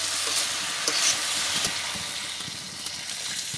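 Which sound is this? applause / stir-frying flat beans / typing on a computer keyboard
stir-frying flat beans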